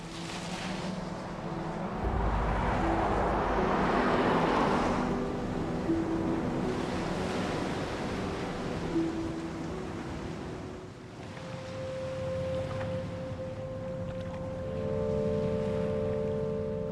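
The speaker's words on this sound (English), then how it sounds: "Out in the ocean, Will has been struggling to stay afloat for" Open ocean with rolling waves and wind, a broad continuous wash of water that swells and recedes, loud and close, with a low droning tone joining toward the end.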